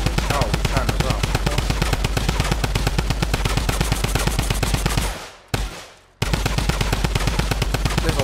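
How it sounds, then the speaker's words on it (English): Fortnite Creative gunfire: a loud, rapid, unbroken automatic burst that cuts out briefly with a sharp single shot, then resumes just as dense. "There's a lot of shooting in this one."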